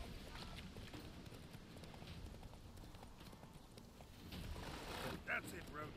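Horse hooves in the video game The Witcher 3 clip-clop quickly and rhythmically under low, quiet background noise, with a brief faint whinny-like sound near the end.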